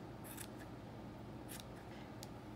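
Scissors snip around the bottom of a small yarn pom-pom, giving a few quiet, separate cuts spaced over a couple of seconds against a soft background hiss.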